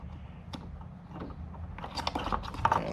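Plastic clicks and snaps as a Toyota Tacoma TRD Off-Road tail light is popped out of the body, scattered close taps building to a cluster of louder cracks.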